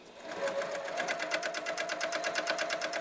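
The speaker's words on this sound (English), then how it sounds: "I put my right sides together, and I'm sewing 1/4 of an inch from the edge" A sewing machine running steadily as it stitches a fabric slip pocket with right sides together, a close, rapid and even mechanical chatter with no talking.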